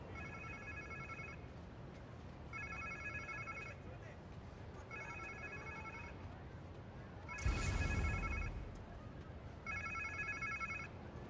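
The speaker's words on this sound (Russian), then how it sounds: "Как будто телефон." Telephone in the video game Marvel's Spider-Man 2 rings in repeated evenly spaced bursts, a clear electronic bell tone over quiet game ambience, with one louder crash or thump partway through.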